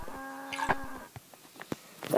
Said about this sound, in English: But I do hear a cow, which is kind of weird.